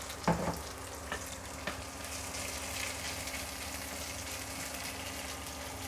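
Grated ginger and chopped green chili frying in hot oil for a vegetable chop filling, a steady close sizzle with a few sharp clatters of stirring near the start.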